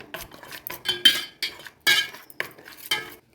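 A spoon clinks and scrapes against a metal tiffin box while mustard paste, salt and mustard oil are mixed, short irregular metallic taps and scrapes in quick bursts, close and clear with no talking.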